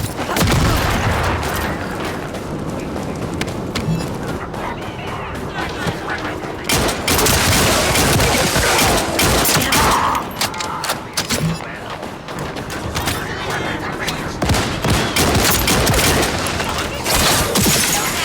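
Heavy, sustained automatic gunfire in a shooter video game, dense volleys with booming impacts and occasional shattering, loud and nearly unbroken throughout, with a voice talking underneath.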